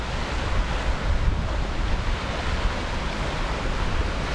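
Steady waves washing onto Cozy Beach, with Koh Larn island offshore, form a continuous rushing surf roar mixed with wind buffeting the microphone and no voices.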